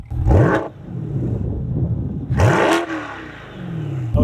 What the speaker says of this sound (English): let's get some revs on our 2020 C8 Corvette